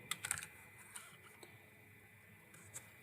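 A few quick keystrokes on a computer keyboard while entering a Hugo command on a Windows system, clustered near the start, then sparse faint taps over quiet background.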